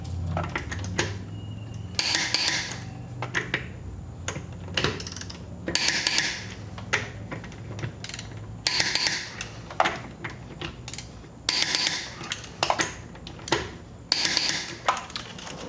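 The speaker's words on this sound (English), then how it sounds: "I just start off with the lug nuts by hand, make sure I don't cross thread anything. And then I'll torque them down with a torque wrench" Metal lug nuts being threaded by hand onto a car wheel hub, then tightened with a torque wrench during a rear Eibach suspension install on a Dodge Challenger: bursts of close clicking and ratcheting clatter separated by short quiet gaps.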